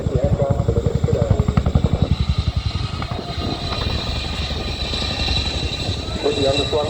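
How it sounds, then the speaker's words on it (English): A Chinook helicopter at the RAF Syerston airshow, heard as a loud, fast, rhythmic rotor thudding with steady engine whine. The sound starts strongly pulsed, then settles into a broader continuous roar with the beat still present. "Sam is a fully mission qualified Chinook captain, but will need to marshal his skill and precision to assist well as the aircraft delivers today"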